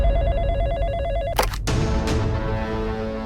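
Telephone ringing on a call to a news channel, an electronic warbling ring that stops abruptly, then resumes after a short break, heard alone over a low background hum.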